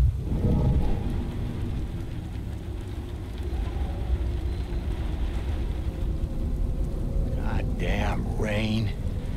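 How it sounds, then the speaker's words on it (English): Steady rain with low thunder rumbling in the video game Beyond: Two Souls, a constant soft hiss under a deeper roll, with people speaking briefly near the end. "Rain."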